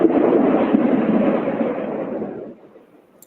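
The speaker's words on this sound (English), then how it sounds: "Jody, you hear that thunder?" Rolling thunder from a storm, a broad low rumble that swells loud at once, holds for about two seconds, then fades away into near silence.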